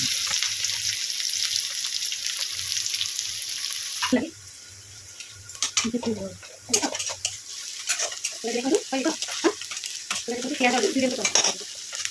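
Onions and cumin fry in hot oil in a home kitchen for veg biryani. A steady sizzle fills the first four seconds. After that, scraping spoon stirs and clatters come in irregular bursts over a softer hiss.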